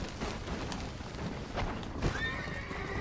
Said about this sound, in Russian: Сейчас тебя твоя лошадь еще шибет.